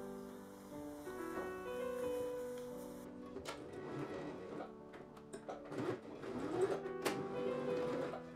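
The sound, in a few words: sewing machine stitching a fabric face mask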